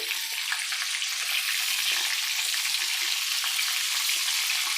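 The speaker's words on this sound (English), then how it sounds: "These are all frying really nicely." Continuous crackling sizzle of chicken cutlets frying in hot oil, close and steady, with a faint low clunk now and then and no talking.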